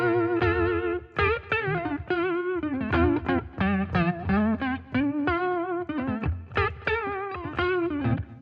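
Electric guitar played through a fast vibrato effect, giving a warbly, wavering pitch to each note; a phrase of plucked notes and chords rings out close and clear with a slightly distorted tone.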